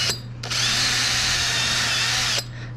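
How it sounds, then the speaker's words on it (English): A power drill, with a nail used as the bit, bores a pilot hole into plywood for a motor mount, spinning up after a brief blip into a loud, steady whine for about two seconds before stopping, close by with no talk. "So we're actually going to pre-drill with the nail first."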